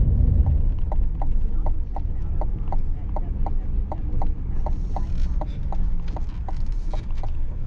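A Stanford BBI Magnum Spreader Plus runs nearby with a low machine rumble and a sharp, evenly spaced mechanical clicking that repeats about four times a second throughout.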